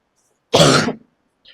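A single short, loud throat clear with a cough-like burst lasts about half a second, surrounded by silence.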